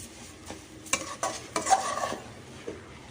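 Beetroot halwa with sugar is stirred in a pan, a spoon scraping through the thick mixture in several short, close strokes with a faint sizzle underneath.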